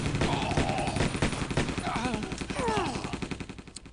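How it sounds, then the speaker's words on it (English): Machine gun in Battlefield 1942 stuck in a looping sound bug, firing in a rapid unbroken stream of shots for several seconds, close and loud, with brief game voice or sound effects over it. "that's a sound bug that you can hear with the machine gun not stopping"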